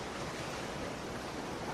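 Ocean waves and surf wash in a steady, dense roar, broadband and continuous with no breaks, close and fairly quiet, with no voices.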